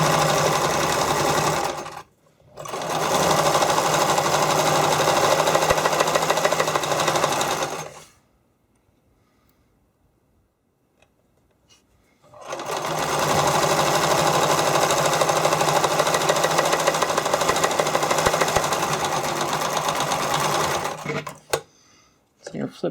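A sewing machine stitching fabric for skate covers runs in two long, loud, steady bursts, stopping briefly near the start and pausing for several seconds in the middle, with a few faint clicks at the end.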